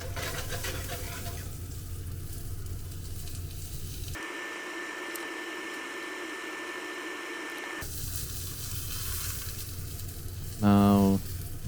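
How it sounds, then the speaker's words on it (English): A hamburg steak patty sizzles in rice oil in a pan, with a steady, hissing fry that holds throughout, a few stretches of muted texture, and a brief clatter near the end. "I'm going to use rice oil again and put the patty."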